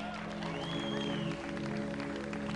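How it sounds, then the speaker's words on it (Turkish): Wedding guests clapping at an Azerbaijani celebration, steady scattered applause under sustained music with tonal drones and a sliding melodic line, moderately faint. "Bak indi lazım ucudan alkışlayasınız"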